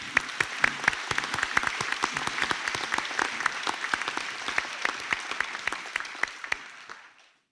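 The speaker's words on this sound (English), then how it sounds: "Please give graduates a round of applause." Graduation ceremony crowd applauding graduates: brisk, crisp clapping from a moderate audience, steady with prominent individual claps, before it cuts off abruptly at the end.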